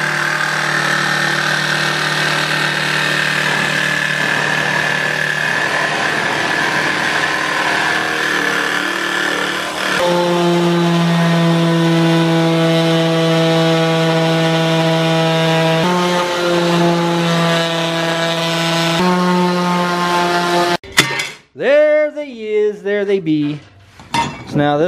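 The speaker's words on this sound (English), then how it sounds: "now we got our foam, we got our stencils, and we got our jigsaw." A jigsaw cuts foam sheet for a custom car dash, a loud steady motor whine with shifting pitch as the blade works, ending in a few seconds of rougher, uneven cutting bursts.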